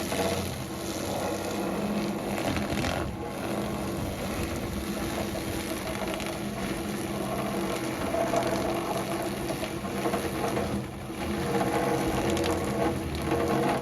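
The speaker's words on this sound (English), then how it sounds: "just start the little plucking machine" A small chicken plucking machine runs continuously, a steady mechanical whir with a ratcheting, geared rattle and slight fluctuations as the bird is worked, with no talking.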